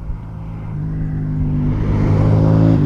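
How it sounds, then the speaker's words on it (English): A 2011 AJP PR4 200 supermoto's exhaust revving up, a low engine note that rises steadily and grows louder over the few seconds, close by with no talking. "so we'll do a little rev up of the exhaust."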